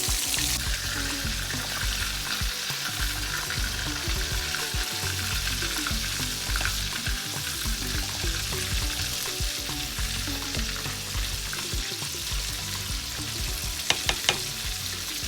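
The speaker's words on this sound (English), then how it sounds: "Now I'm gonna go in and add my fish to the pan, and we're gonna leave them to cook until they're nice and golden brown on both sides." Red snapper fries in a pan with a loud, continuous crackling sizzle that holds steady throughout, with a few brief clinks near the end and no talking.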